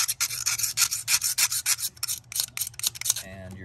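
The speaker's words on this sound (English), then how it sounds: "And you can also use the razor blade kind of like that," A razor blade scrapes an old gasket off a car thermostat housing's mating surface in quick, rhythmic strokes, about a dozen harsh rasps up close, ending with a short tonal squeal.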